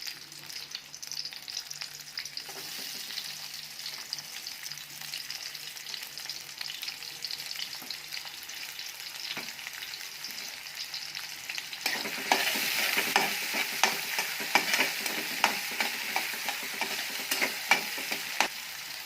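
Chopped onion fries in two spoons of oil in a pan, a soft continuous sizzle with occasional stirring scrapes that grows louder and crackles more partway through.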